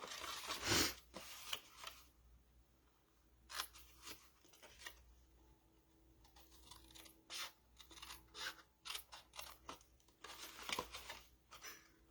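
Scissors snip through cardstock to trim off tabs, giving a series of crisp cuts and small papery rustles at close range, irregular and moderately loud, with no talking.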